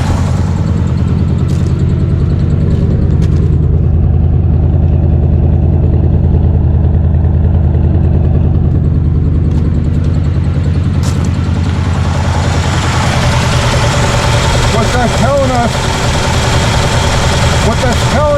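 A 1967 Chevy engine idles steadily with a loud, continuous low rumble, its carburetor idle adjustment screws fully closed, and the running tone stays even throughout.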